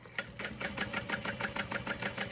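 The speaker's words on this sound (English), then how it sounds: "I'm just sewing about a quarter of an inch seam allowance" A sewing machine stitching a quarter-inch seam allowance on cotton fabric for a handbag runs at a steady, rapid mechanical clatter, close and even throughout without speech.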